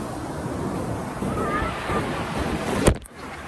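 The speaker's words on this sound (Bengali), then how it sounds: "সৈকতে আশ্রে পড়া বিশাল বিশাল ঢেউ" Big waves break on the beach at Laboni Point, Cox's Bazar, in a constant washing surf with wind buffeting the microphone, and a sharp bump near the end before the roar settles lower.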